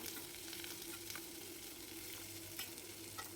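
Thinly sliced onions, one large onion's worth, frying in a pan as the base for a garlic-chilli brinjal curry, giving a steady close sizzle with occasional soft stirring scrapes and no talking.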